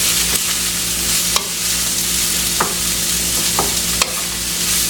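Onions cooking in olive oil in a pan, a loud, even close-up sizzle with a low steady hum underneath and a handful of brief utensil taps and scrapes spread through it.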